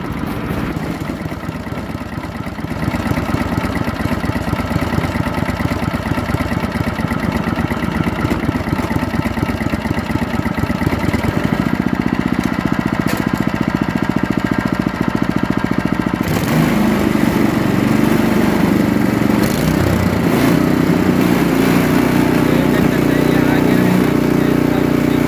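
A Honda GX160 engine driving a water pump runs steadily with a fault that makes it misfire, its loud chugging drone rising as it is revved midway, while someone talks over it throughout.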